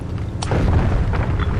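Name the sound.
gunboat cannon fire explosion in Foxhole video game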